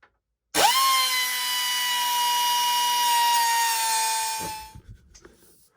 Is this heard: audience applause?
no